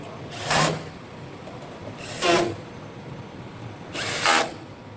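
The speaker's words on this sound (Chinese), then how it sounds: "然后我们上紧螺丝的时候，要先把这个灯抬起来" Three separate bursts of a power drill tightening screws on the light rack of a laser cutting machine, each whirring for under a second with quiet pauses between, close and fairly loud.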